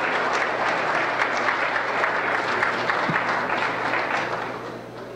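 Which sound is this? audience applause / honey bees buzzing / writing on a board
audience applause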